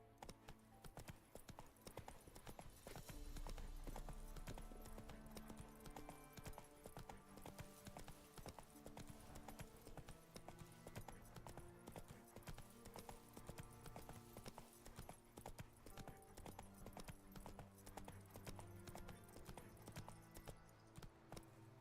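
Roach the horse gallops in The Witcher 3 under a layer of game music and ambience. The rapid, even clip-clop of hooves continues throughout at moderate volume.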